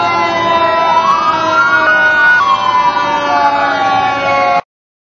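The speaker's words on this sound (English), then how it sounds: "The sound of the pitch of the siren of the fire engine increases gradually as it approaches you" A loud fire engine siren sounds alone, its pitch climbing slowly to a peak and then sliding back down before cutting off abruptly.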